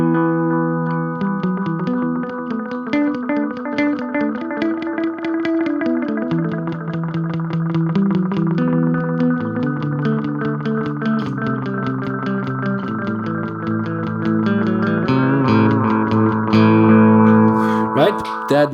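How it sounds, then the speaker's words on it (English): Electric guitar played through a Wampler Metaverse delay pedal set to its dog mode, sustained chords and melodic notes trailing into repeating echoes, steady and fairly loud, with the sound swelling toward the end. "Right, that was the dog,"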